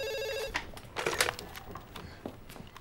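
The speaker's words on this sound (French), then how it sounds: "Quelqu'un va répondre au téléphone?" A telephone rings with a rapid electronic trill for about half a second, then breaks off into clattering handling noise and brief muffled sounds as the receiver is picked up.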